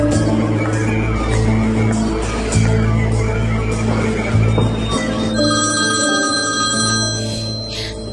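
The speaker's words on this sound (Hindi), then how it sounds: "फोन उठाओ" A telephone rings with repeated electronic tones over a busy, loud background of music and murmur, the ringing steady through most of the clip.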